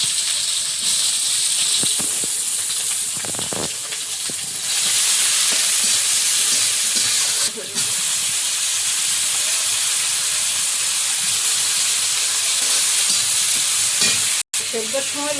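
Dal hits very hot oil tempered with dried red chillies, bay leaves and five-spice seeds, giving a loud, dense, continuous sizzle with steamy hiss and occasional stirring clatter, close and without talk.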